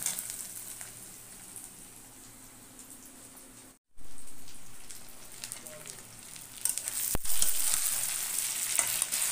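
Ginger stir-frying in a pan for chilli chicken, a steady soft sizzle with scraping stirs, a short dropout midway, then the frying returns louder and brighter.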